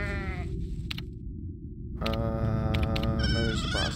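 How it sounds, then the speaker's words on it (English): Sheep in the horror game Crimson Ranch bleat in drawn-out, wavering calls, one bleat, a brief pause, then a longer overlapping chorus of bleats over a low rumbling background drone. "Sheeps, the goats."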